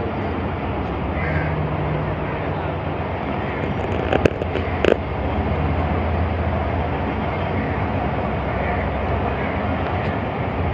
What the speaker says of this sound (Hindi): गाड़ी रायगढ़ स्टेशन को छोड़ रही है